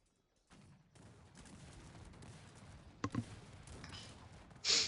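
Cannon and musket fire from a large battle in the strategy game Cossacks 3, a steady crackle of distant volleys with a couple of sharper cannon booms and a loud burst near the end.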